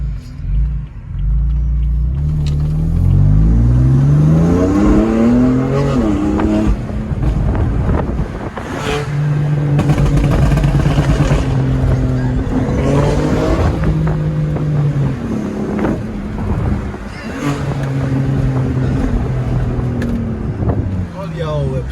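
BMW M4 with aftermarket downpipes accelerating hard through the gears, a loud, rumbling exhaust that climbs in pitch and drops at each shift. Wind buffets the microphone and voices talk excitedly over it.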